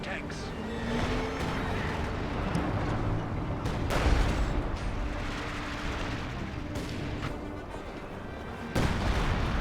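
Artillery and gunfire rumble through a Company of Heroes 2 battle, with repeated booms and sharp shots over a dense, continuous din of combat while voices talk underneath.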